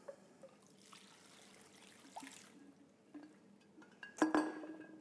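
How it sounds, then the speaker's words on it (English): Salt solution trickles over vegetables for kimchi in a bowl, a faint pour with soft drips and light clinks, ending in a brief louder splash and clink near the end. "I'm going to put the salt solution, pour the salt solution over"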